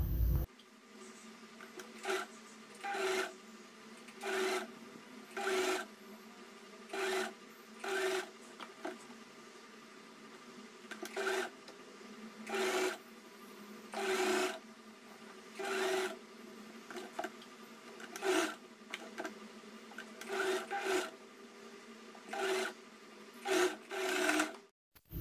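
A sewing machine stitches the princess-cut line of a puff-sleeve blouse, running in about a dozen short, even bursts separated by brief pauses, close and clear with no talking.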